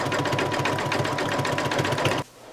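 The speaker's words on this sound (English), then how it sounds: "now it's time for the satin stitching around the ear" A home embroidery machine satin stitches around an appliqué dachshund ear on a tote bag, giving a loud, fast, steady mechanical chatter of needle strokes that stops abruptly near the end, leaving quiet room tone.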